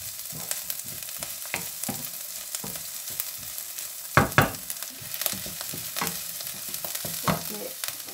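Vegetables fry in oil in a pan for chicken fried rice, a close crackling sizzle punctuated by repeated utensil scrapes and knocks, one sharper clatter midway, steady and moderately loud without any voices.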